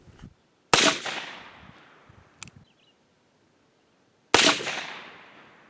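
Two loud, sharp gunshots from a Ruger Old Army percussion revolver loaded with .45 Colt and 700X powder, each with a long decaying echo outdoors, plus a smaller crack between them.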